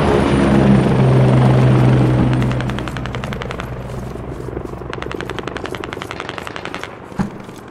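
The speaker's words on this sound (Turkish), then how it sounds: "Arkanıza sanki helikopter indiriyor gibi ya." Helicopter landing in a military shooter video game, a loud rotor and engine roar that fades down while rapid machine-gun bursts rattle in the background.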